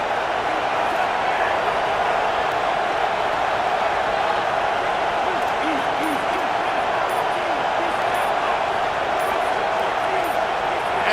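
A roaring stadium crowd in a college football video game, Baylor versus Arkansas, a dense, steady wall of cheering noise that runs unbroken throughout.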